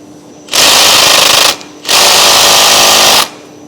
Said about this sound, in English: I'm going to attempt to take this bolt out. You can see I'm using the electric gun method.